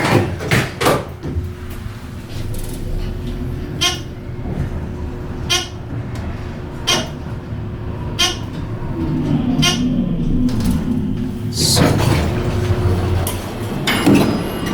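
A Dover traditional traction elevator door in a Seattle parking garage slams shut in the hoistway, giving repeated sharp bangs and clunks over a low mechanical hum.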